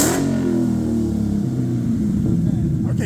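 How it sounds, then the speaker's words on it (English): A Dodge Charger engine with no mufflers runs loud and steady, a deep throaty rumble that stays close and fills the clip, with voices talking over it. "I'm going to start it up so you get an idea of what it would sound like With no mufflers"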